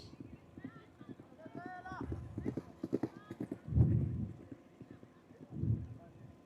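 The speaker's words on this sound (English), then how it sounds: "fresh horses." Horses' hooves clip-clopping at a polo match, a series of near, rhythmic hoof thuds with a horse snorting, while someone talks over them.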